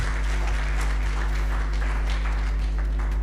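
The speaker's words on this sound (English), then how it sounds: "Another round of applause, please, for Nogwanda." Audience applause for special speakers at a season finale event fills the clip with a steady, dense wash of clapping, loud and continuous throughout, with no talk over it.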